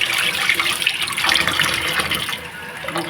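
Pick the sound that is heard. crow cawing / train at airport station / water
water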